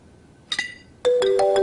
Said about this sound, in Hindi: काजिम अंकल का फोन